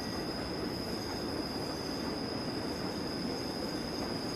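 Passenger train on the Albula Line in Train Simulator 2016, a steady, loud rolling rumble with wheel squeal and a high whine held throughout, no voices.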